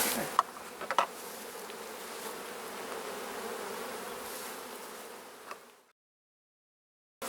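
Honey bees from a split hive swarm around the opened box, a steady dense buzzing hum with a few nearer bees passing, then cutting off abruptly into silence.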